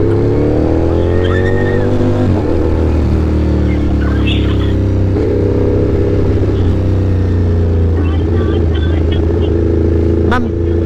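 Ducati big bike motorcycle riding slowly through traffic makes a loud, close engine drone that shifts pitch as it eases on and off the throttle, with riders talking over it.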